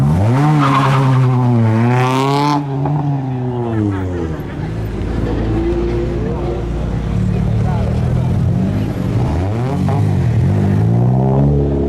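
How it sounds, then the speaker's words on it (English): A modified car does a burnout in a car park at a car meet, its tyres squealing in long, rising and falling screeches over engine noise, with people talking and chatter from the crowd nearby. "Someone's just done a burnout on there."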